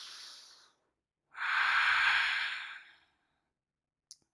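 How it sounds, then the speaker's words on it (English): Two long, breathy inhales and exhales during a yoga session, a brief one followed by a fuller, louder breath, heard close and alone in a quiet room with a tiny click at the end. "Deep breath here."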